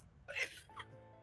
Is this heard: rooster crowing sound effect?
no